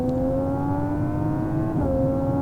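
A car engine in BeamNG.Drive revs steadily at close range, with a quick dip in pitch from a gear shift near the end.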